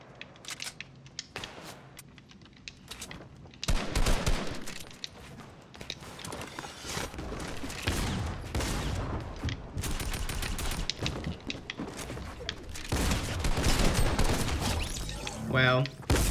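Tactical shotgun blasts in a first-person shooter video game, repeated loud booming shots and rapid gunfire bursts amid game sounds, with someone talking over the action.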